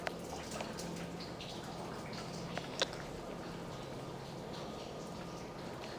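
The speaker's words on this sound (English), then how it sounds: "And it's still raining outside." Early-morning rain drips outside in New York City, a faint, steady patter with a few sharper isolated drops standing out against a quiet background.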